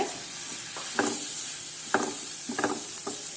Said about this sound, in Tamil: இந்த இதில் வந்து கொஞ்சம் கடலைப்பருப்பு போட்டுக்கோங்க